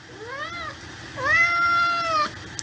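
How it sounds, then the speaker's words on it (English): A cat in heat meows twice up close, a short rising call and then a longer drawn-out wail, with faint background hiss and no talk. "That's just my familiar meowing."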